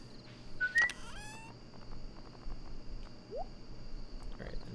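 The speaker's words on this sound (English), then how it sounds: "You only hear that bird during the summer." A summertime bird in the video game Stardew Valley gives a short bright whistled call with quick rising chirps, followed by a softer brief note, over quiet game ambience.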